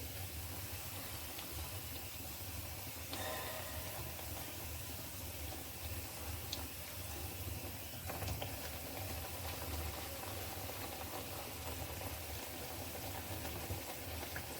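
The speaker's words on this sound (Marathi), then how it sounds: "हे दोन्ही बाजून आपण ह्याला तेलामध्ये फ्राय करून घेणार आहे" Kombadi vade, Konkani chicken vada puffed up in hot oil, fry with a steady close crackling sizzle that runs evenly throughout with no talk.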